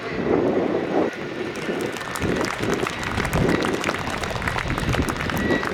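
Jet Pitts Special aerobatic biplane touching down at the Duxford summer air show, a steady roaring engine wash blended with crowd applause, loud and continuous throughout.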